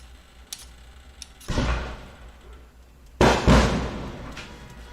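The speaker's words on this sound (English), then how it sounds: "A big firework." Two heavy booms from large fireworks going off in a neighbourhood, a couple of seconds apart, each with a rumbling decay that fades into quiet background noise.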